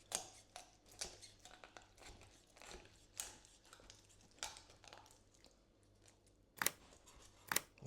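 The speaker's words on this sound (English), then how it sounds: "And we're going to cut right down the other side of that bone." Kitchen shears cut down along a raw chicken's backbone to spatchcock it, giving faint, close crunching snips at an irregular pace, with two sharper cuts near the end.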